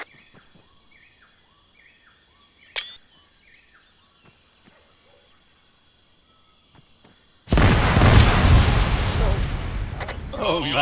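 A vehicle blown up during a video game mission: quiet radio-style chatter and a sharp crack give way to a sudden, massive explosion with a long roaring, rumbling tail.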